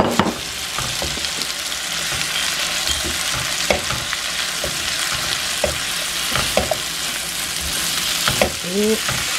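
Chicken pieces and vegetables sauté in a hot pan with a constant loud sizzle, broken by repeated scraping and clinking as a utensil stirs them, and no one speaks.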